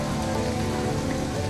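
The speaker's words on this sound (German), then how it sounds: "Ein tropischer Regen ungeahnten Ausmaßes." Heavy tropical rain pouring during a thunderstorm in Sri Lanka, a dense continuous roar of water on surfaces, steady and close without pauses or voices.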